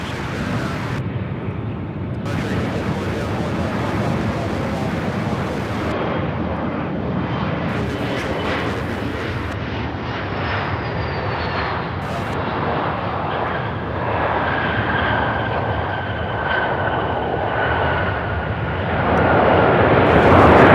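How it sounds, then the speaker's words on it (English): A Boeing 737 airliner roars at Charlotte Douglas airport with loud, sustained engine noise and a rising whine, close and steady throughout, swelling louder toward the end, with no talk. "the 737s never disappoint in the noise department"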